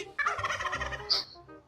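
A vehicle horn on a road that mimics a turkey's gobble gives one loud, rapid warbling burst lasting over a second. It ends in a short squeal and then cuts off.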